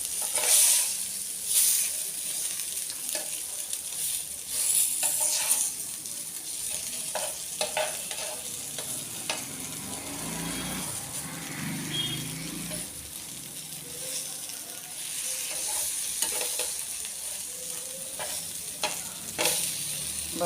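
Fish sizzling and frying steadily in hot oil in a tall pan, with occasional clinks and scrapes as the pieces are turned over, a continuous close crackle throughout.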